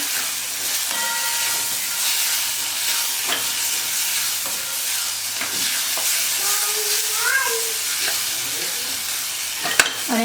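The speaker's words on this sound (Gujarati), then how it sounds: "અહીંયા આપણે સરસ રીતે બે મિનિટ સુધી આમ જ આ શાકને સાંતળવા દઈએ" A green onion vegetable curry sautés in a pan with a steady, loud sizzle and hiss, broken by occasional scraping stirs and clinks of a spoon against the pan, with no talk.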